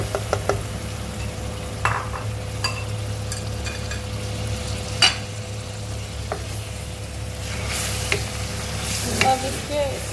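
Marinated yogurt going into frying masala for mutton kofta, with steady sizzling under spoon stirring and a few clinks of the spoon against the pot. There is no talking.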